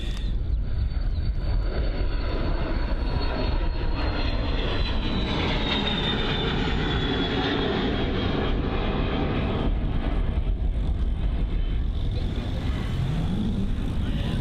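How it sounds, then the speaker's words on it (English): A jet departing London Luton airport roars continuously and loudly close by, its engine whine and rumble sweeping through the whole stretch with a voice faintly underneath. "the registration on board that jet, which has just taken off."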